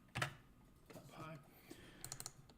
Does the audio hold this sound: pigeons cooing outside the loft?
no